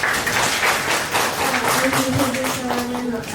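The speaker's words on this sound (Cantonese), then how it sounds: "我哋俾掌聲呢位女士先" Audience applause for someone speaker at a 2025 QTN fashion design forum, a lively burst of clapping by a moderately sized crowd, fairly close, with talking underneath.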